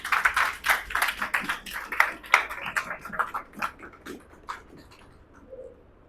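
Church congregation at an Urdu/Hindi sermon clapping to welcome the preacher, a burst of many hands that starts full and then thins out and fades over a few seconds.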